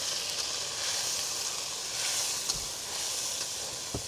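Onion, garlic and chili paste hits hot oil and sizzles, a steady bright hiss of frying that carries on for several seconds with a few small pops, close and moderately loud.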